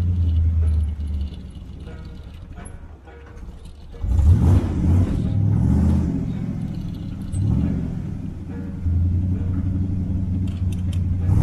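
A car engine idles steadily, a low rumbling hum throughout, rising briefly louder around midway as it revs slightly, while the driver adjusts things inside the cabin with some rustling and faint movement.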